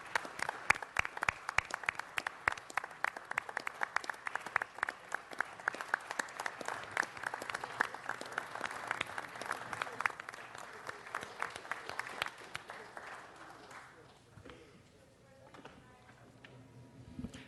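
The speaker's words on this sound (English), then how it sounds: "we give applause once again as they stand up and recognize our men and women of the Los Angeles Fire" Sustained applause fills a Los Angeles City Council chamber in honor of Los Angeles Fire Department firefighters, dense steady clapping from a large crowd that thins and fades out over the final few seconds.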